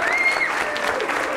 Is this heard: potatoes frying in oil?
no